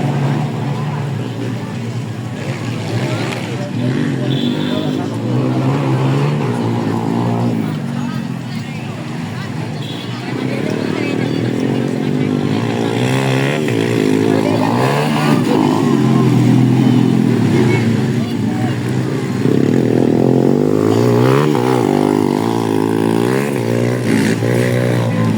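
Trail motorcycles race at a grasstrack motocross event in Belilas, Riau, their engines droning and revving without a break while an announcer's voice runs over the top.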